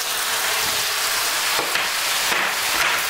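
Green beans drop into a pot of pork vegetable stew with a loud, continuous sizzle, with several brief clatters and stirring sounds as they go in.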